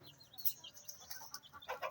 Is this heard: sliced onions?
no